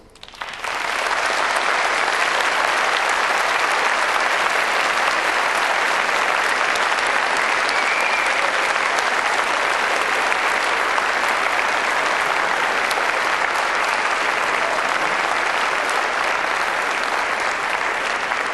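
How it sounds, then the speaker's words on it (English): A large graduation ceremony crowd gives family and friends a steady, dense wall of applause, loud and unbroken from start to finish with no talk. "giving them a warm and enthusiastic round of applause"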